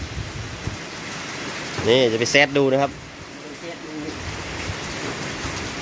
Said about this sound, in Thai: ฝนยังตกอยู่นะครับนี่